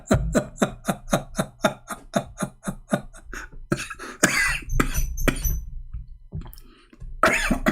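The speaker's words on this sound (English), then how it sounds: "Sorry guys, I'm coughing." A person coughs in a rapid burst of about a dozen sharp, evenly spaced coughs, then a few heavier, rougher coughs and throat sounds, close and loud with no talking.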